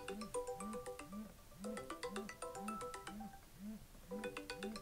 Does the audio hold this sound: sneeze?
no